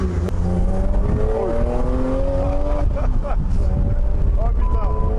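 BMW Z1 roadster with a heavily modified engine revving hard while driving, pitch climbing and dropping through gear changes, loud and close under engine and wind noise, with someone talking over it.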